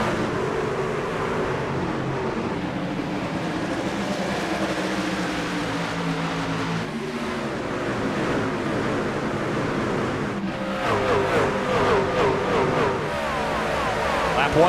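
Race trucks roar around Bristol's short oval in the iRacing AREA Truck Series, a dense, steady engine drone of many trucks together with rising and falling harmonic whines under continuous commentary.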